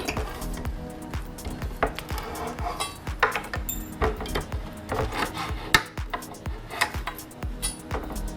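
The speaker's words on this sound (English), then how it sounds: "then you can grab your crowbar and just rip them out" Crowbar prying nails out of reclaimed pallet wood, close scraping, creaking and metallic clinks in irregular bursts throughout, with no voices.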